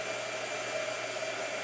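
A hair dryer blows continuously nearby, giving a steady, loud whirring rush with a fixed motor tone and no other sound.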